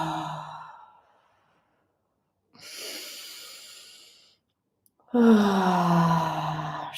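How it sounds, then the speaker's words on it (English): Deep, slow breaths in and out during a guided meditation, three long airy exhales with quiet pauses between them, close and fairly loud, the last one strongest. "So 3 big, deep breaths in"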